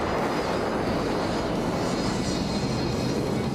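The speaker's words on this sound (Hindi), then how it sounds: "1500 फीट की ऊंचाई पर लड़ाकू विमानों ने हैरत अंगेज करतब दिखाए" Fighter jets flying aerobatics at about 1500 feet during an air show, with a loud, continuous roaring jet rumble that fills the whole stretch without letup and no voices on top.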